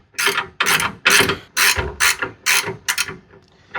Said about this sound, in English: From this point, I'm going to remove this nylon lock nut